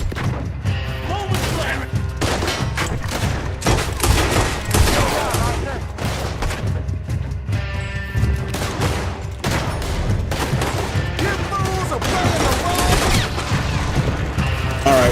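Dense gunfire rages in the Western video game Red Dead Redemption 2, rapid overlapping shots, booms and crashes running nonstop for many seconds, with voices occasionally heard amid the shooting.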